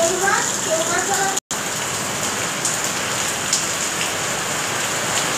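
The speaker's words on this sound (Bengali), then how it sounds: "হ্যাঁ দেখ কি জোরে বৃষ্টি এসছে" Heavy rain falls steadily, a dense continuous hiss of drops on surfaces from start to end, briefly cut out once near the beginning, with no clear talk over it.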